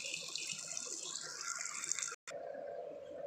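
Water poured into a cooking pot while making a banana stem kootu, a steady close splash and gush that cuts off abruptly near the end, then a softer continuing trickle.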